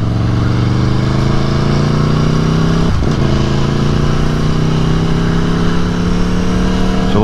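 A 2018 Aprilia Tuono motorcycle runs on a test ride, its engine droning loud and steady from up close, the pitch climbing slowly through one gear before a brief shift, then climbing again.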